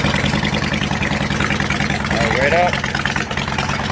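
A cold 2005 Honda VTX 1300 C motorcycle engine idles steadily with the choke pulled after a cold start, a continuous low, loud rumble throughout with someone speaking briefly over it.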